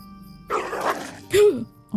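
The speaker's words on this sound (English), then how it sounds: "Oh my god, the dog scared me." A dog barking in the Lord of the Rings Online game, a couple of sharp close barks followed by a whimpering, rising yelp, heard alongside a quiet musical tone.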